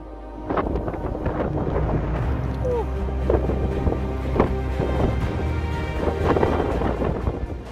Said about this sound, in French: là le vent s'est levé et pas qu'un peu